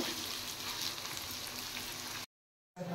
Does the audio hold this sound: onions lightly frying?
yes